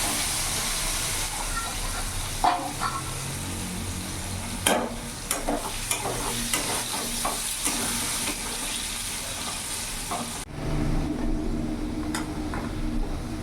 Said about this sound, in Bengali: আলুটা ভালো করে ভেজে নেব আমি।